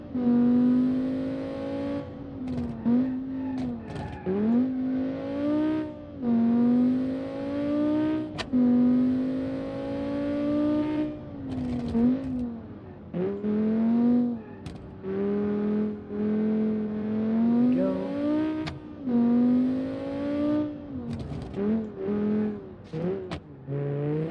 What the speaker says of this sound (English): Exhaust noises are amazing.